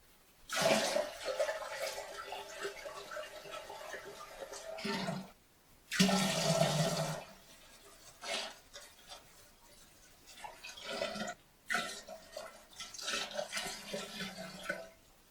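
About five litres of water pour in several separate bursts into the tank of an electrically heated distillation still, sloshing and splashing close by between short pauses.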